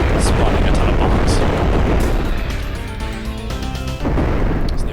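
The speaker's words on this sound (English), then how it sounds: "I'm gonna cheese this very quickly by spawning a ton of bombs." Dense string of explosions as a swarm of spawned bombs goes off in a video game boss fight, loud booms and bursts overlapping continuously with game music beneath.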